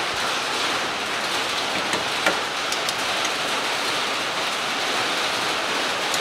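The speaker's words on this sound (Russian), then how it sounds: "Дождь пошел." Rain falls steadily outdoors during work on a 2007 Citroen C-Crosser, an even broad wash of patter with a few faint drip ticks, constant in level and with no one talking.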